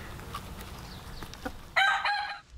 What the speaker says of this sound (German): Die Hühner freuen sich über frisches Grünfutter.